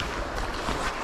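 Strong wind gusts by the River Tay in Scotland during a salmon fishing outing, a loud, close roar buffeting the microphone without pause.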